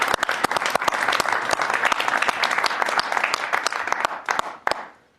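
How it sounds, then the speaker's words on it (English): Audience applause honoring the Popes at a college sports broadcast, a dense, lively round of clapping with crisp individual claps standing out, sustained for several seconds before tapering off quickly at the end. "Let's have a round of applause for the Popes."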